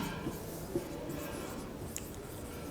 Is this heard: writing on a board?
yes